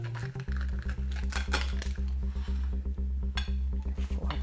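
A cutter scrapes and clicks rapidly against a pan while slicing a baked tortilla pizza into four pieces, a quick run of close metallic chinks and taps over a steady low hum.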